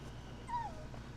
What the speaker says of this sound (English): I think this little doggy likes me.